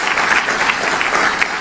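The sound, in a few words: congregation applauding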